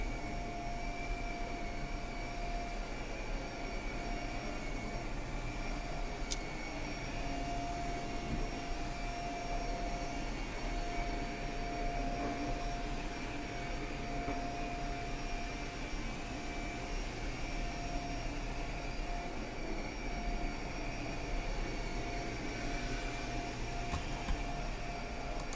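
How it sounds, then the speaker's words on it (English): A vacuum cleaner runs steadily with an even whining drone and a constant low rumble, holding a near-unchanging level throughout, with only a faint brief click partway through. "We like vacuuming."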